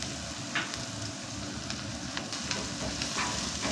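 Garlic and onion frying in a pan, a steady dense sizzle with faint crackles and occasional stirring, close and continuous.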